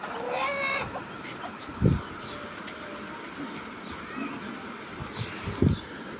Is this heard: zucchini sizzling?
no